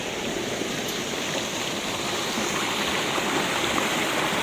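Spring water flows in a steady, close rushing hiss at the Alue Sungai Pinang river bathing place in Abdya, continuous and unbroken, with no talk.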